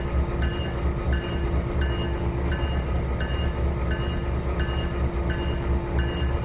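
A train runs on rails in the Trainz 2022 video game, with a continuous rolling rumble and evenly spaced clicking beats from the wheels passing rail joints, steady and loud without voices.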